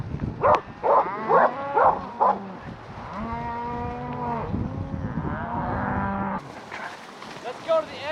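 Cattle moo on a high country cattle drive, several drawn-out lowing calls overlapping near and far, with short barks or voices between them at the start and end.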